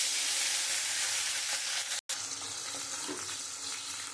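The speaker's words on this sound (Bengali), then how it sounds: "কড়াইয়ের মধ্যে তেলটা দিয়ে দিয়েছি, তেলটা গরম হয়ে গেছে। এবার আমি মাছগুলো দিয়ে দেবো।" Fish fries in hot oil in a wok with a continuous, close, hissing sizzle and a brief cut midway.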